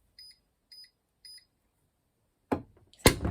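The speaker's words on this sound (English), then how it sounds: "Alright, so it's beeping. It's telling me that it's ready." Three short, high electronic beeps from a mug press signalling it is ready, spaced evenly apart, followed by a couple of louder clunking handling sounds.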